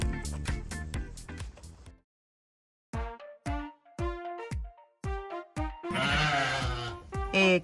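Sheep on a farm bleating repeatedly up close, a quick run of loud calls, a short silence, then more bleats in uneven bursts ending in a harsher, noisier cry.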